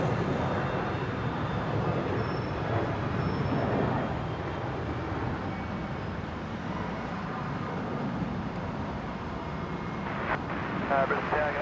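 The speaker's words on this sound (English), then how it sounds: "Qantas 621 here, heading off to Melbourne from 19 left, just rotating now" Qantas flight 621 to Melbourne rotates off runway 19 left at Brisbane, its engines a continuous broad roar under intermittent talk and radio chatter.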